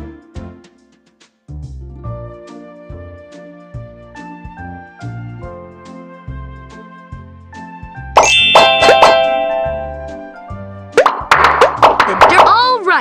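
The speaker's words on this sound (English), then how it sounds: "Now tap all the bubbles to pop them." Bubbles pop one after another in a PAW Patrol bath-time game, bright plopping dings against a gentle musical backing, growing into quick clustered bursts of chiming pops toward the end.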